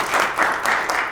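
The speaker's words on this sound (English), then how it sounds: "give him a round of applause" Brief burst of applause from an audience at a Kwanzaa commemoration in Paterson, dense, steady clapping lasting about a second.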